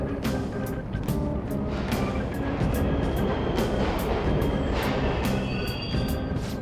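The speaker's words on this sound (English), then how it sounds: "The trains are totally running!" Subway trains rumble steadily through an underground station in a Persona video game, a dense continuous roar scattered with sharp metallic clicks and rattles, loud and unbroken, with no voices.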